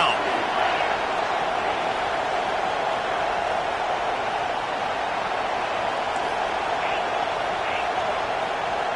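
A stadium crowd in a Madden football video game, South Carolina playing, keeps up a steady, dense roar throughout, a constant wash of noise with no clear breaks.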